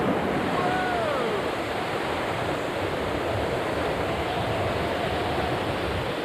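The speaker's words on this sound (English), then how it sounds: "These waves are crashing 100 yards inland from where they normally break." Storm surge waves from a hurricane in Guam crash far inland, a loud, continuous roar of surf and rushing water filling the whole clip, with no clear individual breaks standing out.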